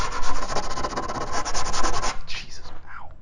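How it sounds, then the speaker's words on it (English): Sandpaper rubs back and forth over the edges of a wooden coffee table built with pipes. The strokes are loud, rhythmic and close by for about two seconds, then scrape more faintly. "We're gonna get some sandpaper and just sand down those edges."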